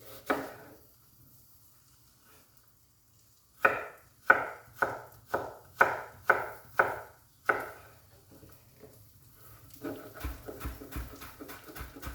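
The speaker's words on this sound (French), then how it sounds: "on va émincer finement de l'oignon" Knife strokes finely chopping onion on a board, with one early cut, a pause, then a regular run of about seven crisp close chops and softer scraping knocks near the end.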